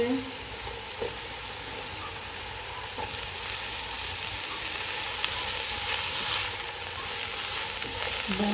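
Chopped carrot and cabbage fry in hot oil for a chicken hot and sour soup, a steady close sizzle running throughout with occasional stirring scrapes and no talking.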